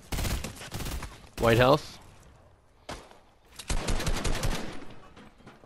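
Fortnite gunfire crackles in rapid bursts of automatic shots, first at the start and again in a longer volley near the end, mixed with players talking over voice chat.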